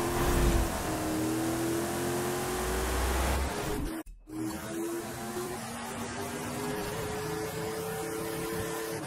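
Pro truck engine revving in the Forza Horizon video game's Eliminator mode at a festival site, a loud sustained drone with rising pitch, a brief dropout midway, then steady engine roar again.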